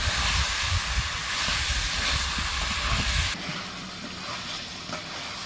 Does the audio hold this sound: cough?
no